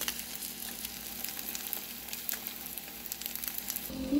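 A salmon patty fries in a pan with a steady, soft, crackling sizzle and scattered pops, continuous and close, with no talking.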